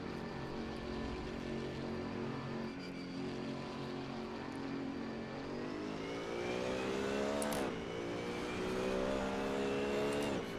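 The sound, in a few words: race car engine in Assetto Corsa video game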